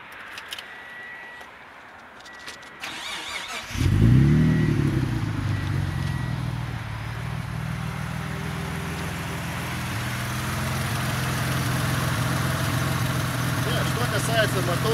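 A Mitsubishi 3000GT engine starting and settling into a steady idle, a close low rumble that jumps in after a few quiet seconds and keeps running, with people talking over it.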